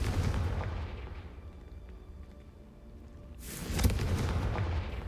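A Confringo fire spell explodes in the video game Hogwarts Legacy, a loud booming burst that swells and crackles near the end after a quieter rumbling stretch, with no voices.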